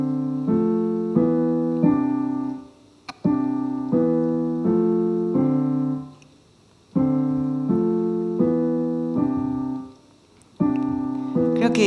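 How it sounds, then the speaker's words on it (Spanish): A short piano-like piece built from a Seville tile pattern in the María de Padilla baths, in a Bartók Mikrokosmos style; repeating groups of clear notes play alone in phrases separated by brief pauses. "suena un poco como el microcosmos de Bartók, así cuando se aprende el piano"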